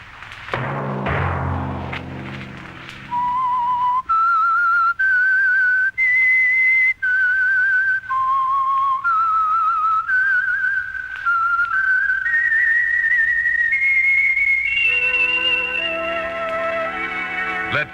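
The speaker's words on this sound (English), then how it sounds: "Let that whistle be your signal for the Signal Oil program, The Whistler" A lone whistled melody, the theme for the radio program The Whistler, rises in clear, sustained notes. It follows a short thud and low musical chords, with a brief orchestral swell near the end.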